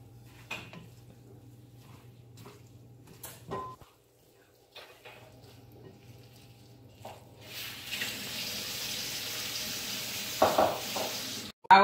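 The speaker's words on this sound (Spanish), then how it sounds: "Ahora vamos a mixear el arroz con la cebolla y el apio y los hongos." Rice being stirred in a pan with onion, celery and mushrooms for black rice, with soft scraping and stirring clatter that gives way to a louder steady sizzle later on.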